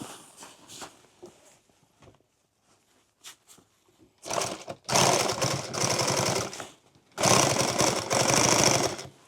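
A sewing machine stitching through the thick layers of an XL tool bag runs in short bursts, quiet fumbling first, then two loud, close, rapid runs of stitching.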